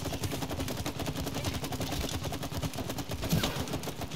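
Rapid gunfire at shooting targets in It Takes Two, a dense continuous rattle of automatic shots at steady volume with little pause.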